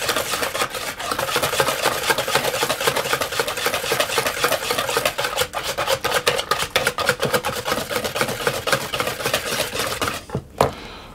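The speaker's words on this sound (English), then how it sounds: "And whisk those as well." A whisk beats madeleine batter ingredients in a bowl with quick, continuous rhythmic scraping and clicking that stays close and loud for about ten seconds before stopping abruptly.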